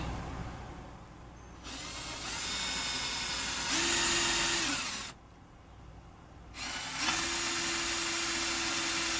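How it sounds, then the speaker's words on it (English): A power drill bores holes into the metal front frame of an RV, whining at a steady pitch in two sustained bursts separated by a short pause, with a faint background hiss between them. "while I drill the holes up here in the front."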